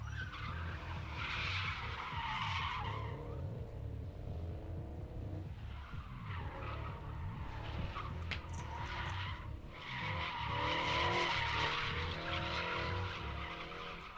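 Drift car sliding at a test-and-tune session at the Drift Pit, long loud bursts of tire skid and squeal over a roaring engine, rising and falling through the run, with no talking.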